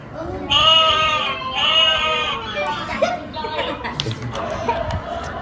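A sheep bleats two or three times up close, wavering and nasal, followed by softer chatter and light laughter from people nearby.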